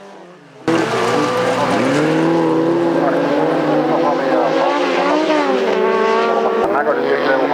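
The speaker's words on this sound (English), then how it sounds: "Sami Fält driving the Fiat, skillfully navigating turns, show a quick shot of the start of the race" A Fiat folk racing car powers around the turns of a race track, its engine loud and close, revving up and down in repeated sweeps as it brakes and accelerates.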